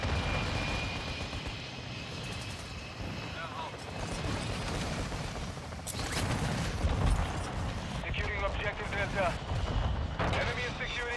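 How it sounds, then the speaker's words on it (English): Ground War battle in Call of Duty Modern Warfare II, with dense roaring aircraft and engine noise layered with bursts of gunfire and explosions, loud and busy throughout, under game announcer voices. "Friendly chopper gunner on station."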